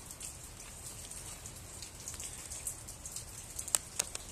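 Light rain falls on a roof, a steady soft hiss spread across the whole stretch, with scattered drops ticking on it and a few sharper taps toward the end. No one speaks.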